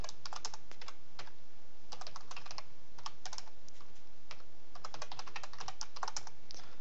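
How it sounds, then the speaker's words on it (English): Computer keyboard being typed on in bursts of quick clicky keystrokes with short pauses between, close and clear against a faint steady hiss, no voices. "if I could type right."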